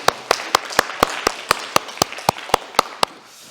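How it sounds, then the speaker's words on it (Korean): A Korean church congregation in Berlin claps in unison during Sunday worship, a dozen sharp, evenly spaced beats in a steady rhythm that stop after about three seconds. "우리 영광의 박수 한번 다시 한번 올리겠습니다"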